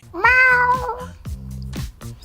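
An actress imitates a cat, giving one long, wavering meow followed by several shorter, clipped mews, close and loud.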